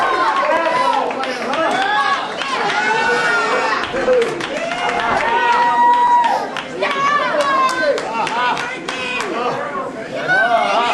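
Wrestling arena crowd roaring and shouting throughout as a match builds, a dense, loud wall of cheers and chatter with a commentator talking over it.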